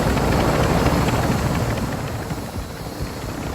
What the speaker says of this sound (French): y'a un autre hélico